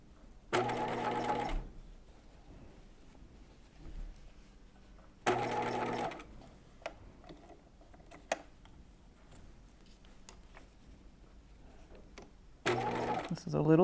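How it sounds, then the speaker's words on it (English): A sewing machine basting skirt pleats with a half-inch seam through thick fabric, in three short bursts separated by quiet stretches with small handling clicks, while a person talks in between. "now we're going to baste this together using a 1/2 inch seam allowance"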